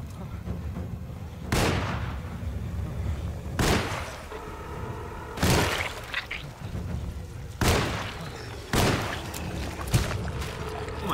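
Heavy gunshots boom at spaced intervals in the video game Alone in the Dark, about five loud blasts each with a short echoing tail over a low background hum.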